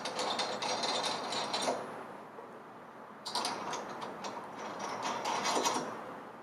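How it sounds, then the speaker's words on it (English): A ratchet ticks in two fast bursts with a short gap between them as the body bolts on a FLO-TITE F150 valve are tightened in a cross pattern, fairly close and with no talking. "just reassemble the body bolts in a cross pattern"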